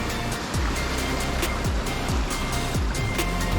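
Sea waves at Hellshire Beach in Portmore, Jamaica, rushing in and washing up against rocks in a steady, loud roar with repeated surges.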